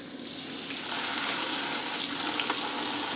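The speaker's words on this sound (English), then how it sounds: "We're gonna fill this up with some warm water." Warm water runs from a tap into a sink for dyeing alpaca and merino yarn, a steady hissing gush that grows louder after the first second and continues without talk.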